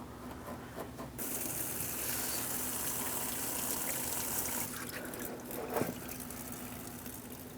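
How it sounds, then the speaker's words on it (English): Coolant gushes from a loosened radiator hose on a 2003-2007 Cadillac CTS 3.6L V6 into a collection receptacle, a steady close hiss of pouring liquid that eases off near the end, with no talking. "I'm going to carefully try to divert this coolant down into my collection receptacle."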